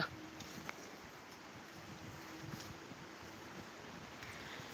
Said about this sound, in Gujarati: એ પવનની ઘૂરી આવી